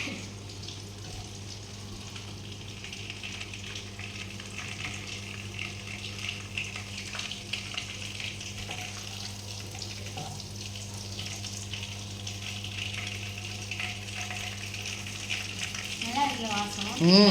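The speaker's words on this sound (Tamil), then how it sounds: "இந்த சோம்பு வாசனை இருக்கும் பொறிஞ்சு வருது" Squid pieces with grated coconut and fennel seeds frying in a pan give a steady low sizzle and crackle throughout, with some clatter and a brief sharper rise near the end.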